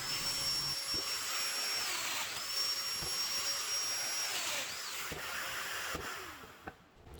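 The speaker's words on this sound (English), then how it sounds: "come back with the domino and cut out those holes" A domino joiner cuts mortise holes in tapered wooden stool legs for an outdoor stool, a steady whining motor drone with rising and falling pitch as each plunge cut starts and finishes, close and continuous.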